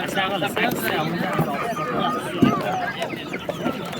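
Roosters and other chickens cluck and call at a busy Qumtepa poultry bazaar in Fergana, with continuous crowd chatter and market noise around them.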